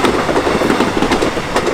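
A train rolls past up close, a loud, steady rumble with a faint rhythmic clickety-clack of wheels over rail joints that runs through the whole moment without a break.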